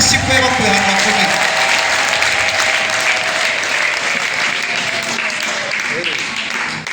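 A church congregation claps and applauds loudly and continuously for several seconds, the dense clapping filling the room and fading slightly toward the end, with voices mixed in.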